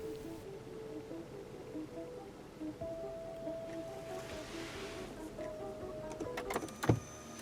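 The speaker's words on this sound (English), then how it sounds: "The seat and steering wheel do move back to help with easier entry and exit" Power seat and steering column of a 2017 Lexus RX 350 gliding back, a faint steady electric motor whir held for a few seconds in a quiet cabin, ending with a soft stop and a small click.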